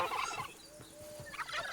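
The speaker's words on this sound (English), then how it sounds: "Oh, and we got little turkeys." Turkeys in a homesteading video game give a short burst of gobbling, with a couple of rapid warbling calls at the start and end and a quieter gap between them, heard without talk.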